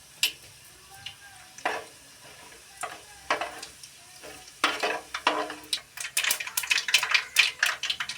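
Onions dropped into well-heated cooking oil for a brinjal and tomato curry, giving irregular crackling sizzle bursts and scraping stirs that grow louder and busier toward the end.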